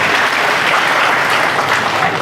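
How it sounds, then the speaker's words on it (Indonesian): Steady, dense audience applause at a live Maiyah BangbangWetan gathering, loud and continuous throughout with no lulls, many hands clapping together at close range. "Oh, tepuk tangan."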